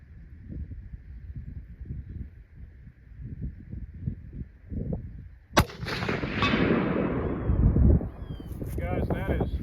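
A rifle fired from standing on budget shooting sticks at a 10-inch target around 200 meters, one sharp, loud outdoor shot with a long rolling echo, after low murmuring and wind.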